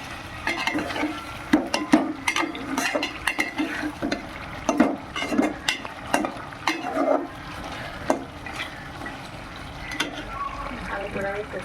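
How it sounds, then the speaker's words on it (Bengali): Curry of elephant foot yam and meat being sautéed in a pan, with a spoon scraping and stirring in repeated strokes over a steady sizzle, close by; no talking. "তরকারিটা আমি এখন কষিয়ে নিচ্ছি।"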